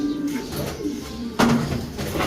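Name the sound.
bird calling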